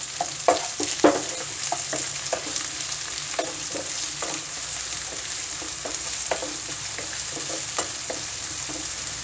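Chopped onions fry in mustard oil for a potato and beans dry curry, giving a steady close sizzle with scattered stirring clicks and scrapes throughout.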